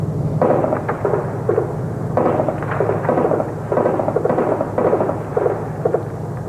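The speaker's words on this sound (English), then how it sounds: "That gunfire you hear is being picked up on the microphone from the camera showing you these pictures." Bursts of gunfire crackle in rapid clusters, repeated several times over a low constant rumble, sounding somewhat distant, during the storming of the Russian Supreme Soviet building in Moscow on 4 October 1993.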